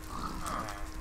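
A pig grunts briefly and faintly in a historic 1500s-style house setting, with low rough snorting sounds over a dull background.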